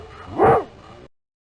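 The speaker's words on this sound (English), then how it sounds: "Dog." A single short dog bark from the 1993 PC game Kids Can Read! Aesop's Fables, close and clear, with a slight whimpering tail before it cuts off.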